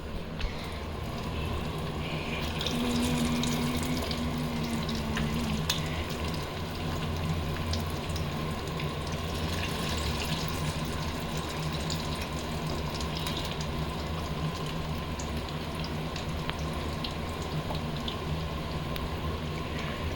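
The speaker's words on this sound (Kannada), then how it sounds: "ಇಲ್ಲೂ ಬಾಯ್ಲ್ ಆಗ್ತಿದೆ, ಮೀನ್ ಇಲ್ಲೂ ಬಬಲ್ಸ್ ಇದೆ, ಇಲ್ಲೂ ಬಬಲ್ಸ್ ಇದೆ." Water boils in a pot at a home stove, a steady, moderately loud bubbling and fizzing that continues evenly without pause.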